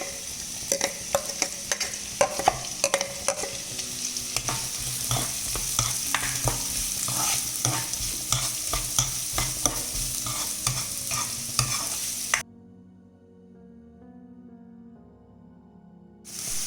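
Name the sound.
sliced onion and green chilies frying, being stirred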